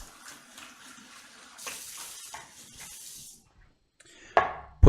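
A dirty coffee cup is rinsed under a running kitchen tap, with water splashing in bursts for about three seconds, then a pause and a sharp clatter of the cup near the end.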